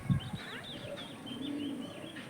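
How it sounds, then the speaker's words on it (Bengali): A closed-tail pigeon coos softly in a quiet indoor loft, with a few faint chirps and a brief soft flutter at the start. "বন্ধ টেলের পায়রা"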